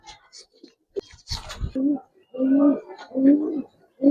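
Pair of Kaldom pigeons held in hand, giving several low throaty coos in short bursts, close and clear, with brief rustling and a quiet voice nearby.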